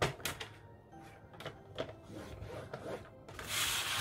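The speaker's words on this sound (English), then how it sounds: "I'm going to spin it around and score it at 6 1/4" Paper sheet for a mini album being scored and handled with a trimmer or scoring tool, giving a run of short rubbing, scraping strokes, fairly close and quiet, with a louder rasping sweep near the end.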